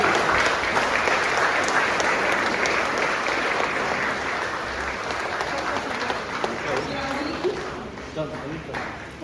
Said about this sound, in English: Please, a mighty clap.